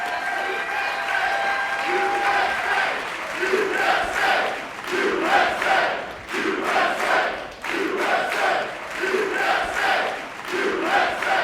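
A live podcast audience claps and cheers as USWNT players Heather O'Reilly, Becky Sauerbrunn and Ali Krieger take the stage: loud sustained applause with whoops and rhythmic chanting pulses, voices mixed throughout.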